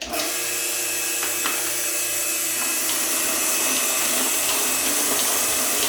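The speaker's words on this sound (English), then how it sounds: "we're going to run the water, the cleaning water, through the pail." Cleaning water rushes steadily through the hoses and pail of a Capralite milking machine in a loud, continuous hiss, with faint mechanical clicks and knocks underneath.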